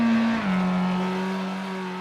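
A Formula 3 race car engine in a racing simulator game holds a steady high whine that drops briefly in pitch, then settles and climbs gently, heard alone and fairly quiet.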